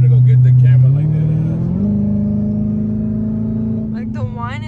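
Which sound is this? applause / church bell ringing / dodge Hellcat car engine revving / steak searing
dodge Hellcat car engine revving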